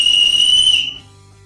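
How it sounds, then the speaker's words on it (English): An emergency whistle built into a backpack's adjustable sternum strap gives one loud, steady, shrill blast lasting under a second, then cuts off to near silence. "The adjustable sternum strap features an integrated emergency whistle."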